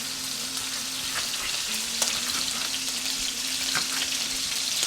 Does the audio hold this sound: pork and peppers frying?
yes